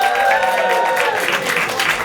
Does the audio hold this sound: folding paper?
no